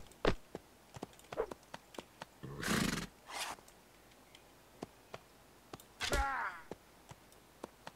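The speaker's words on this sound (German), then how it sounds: "Ja, Pferdchen." A horse in Mount and Blade Warband whinnies in two loud, quavering bursts, set between sharp, evenly spaced hoof clicks and a couple of brief rushing noises, with no talk.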